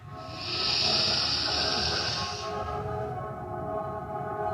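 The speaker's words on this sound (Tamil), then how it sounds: "வலது நாசை மூடிட்டு இடது நாசி வழியாக மூச்சு இழுக்கலாம்" A person breathes in slowly through the left nostril with the right nostril closed, during alternate nostril breathing for respiratory relief; a steady, close airy hiss rises and holds for about two seconds, then fades to quiet room tone.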